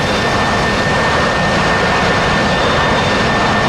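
F/A-18 Hornet jet in DCS World, heard as a loud, steady roar of jet engines during landing on a runway, with constant broadband noise throughout.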